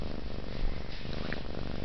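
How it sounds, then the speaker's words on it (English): Two cats purring together, a steady close low rumble that runs continuously without any voices over it. "Listen to that purr."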